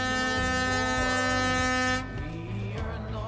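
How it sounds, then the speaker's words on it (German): In the FlatOut 4 Total Insanity racing game, a big car horn sounds one loud, sustained, deep brassy blast for about two seconds, then gives way to rumbling game noise. "Wir nehmen auf jeden Fall die große Hupe, oder?"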